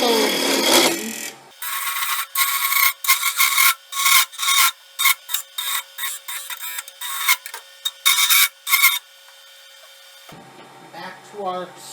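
A finisher rasp files notches into a wooden wand in a series of sharp, scratchy strokes, each a short rasping burst with brief gaps, loud and close, with a voice heard briefly before and after.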